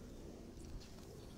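A pet pigeon gives a faint, low, brief coo, soft and murmuring against quiet room background with no speech.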